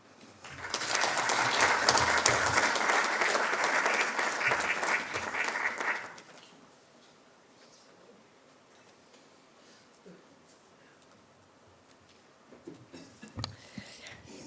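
Sustained applause from a seated audience at a professorial inauguration ceremony, loud and full for about six seconds before cutting off sharply, followed by quiet room tone with faint rustling and a few soft sounds.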